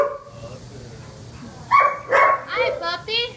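Dog barking at an animal shelter, a run of loud, close barks and yips arriving in quick bursts after a quieter stretch of kennel noise, with a person's voice also present.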